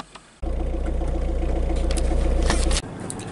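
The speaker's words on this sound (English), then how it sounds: "we could go out and start my car up actually" A car engine turns over and catches, then settles into a steady, loud, close idle with a rhythmic low throb for a couple of seconds before cutting off abruptly.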